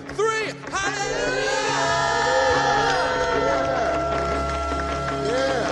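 A church congregation at a Sunday service erupts in loud shouted praise, a sustained roar of cheering voices and whoops that holds strong and close for several seconds.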